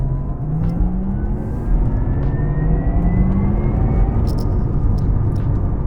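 An electric car accelerates with a smooth rising whine over road and wind noise, pitch climbing steadily; close, no voices.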